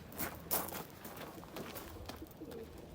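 Pigeons at a Turkish breeder's loft coo softly, with scattered close rustles and wing-like flutters over steady low background noise.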